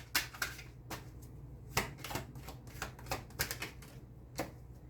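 Tarot cards shuffled and drawn by hand, a run of crisp close flicks and taps in an uneven rhythm over a low hum, no talking.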